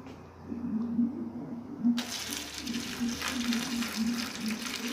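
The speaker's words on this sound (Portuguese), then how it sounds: "Agora os 2 litros de água." Two litres of water pour into a bucket for homemade coconut bar soap, a sudden loud rushing splash that starts partway in and continues steadily, following a quieter stretch with a faint hum and murmuring.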